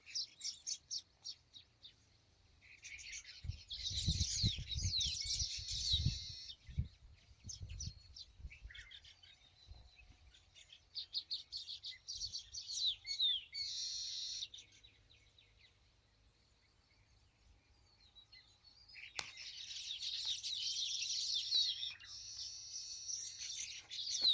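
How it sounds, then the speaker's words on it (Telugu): Outdoor birdsong from a bird building its nest, repeated bursts of chirps and tweets that come and go at moderate distance, with faint insect noise between calls. "గూటిని నిర్మిస్తున్న పక్షి"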